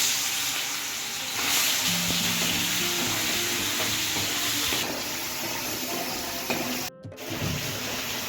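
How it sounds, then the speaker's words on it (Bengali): Prawns fry in hot oil in a heated wok, giving a continuous close sizzle with some stirring and watery bubbling, with a brief dropout near the end and no speech. "এবার এর মধ্যে চিংড়ি মাছটা প্রথমে ভেজে নেব।"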